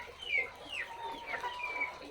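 Black Australorp chickens in a backyard pen give repeated close, moderately loud clucks and short calls over steady background noise, with no talk.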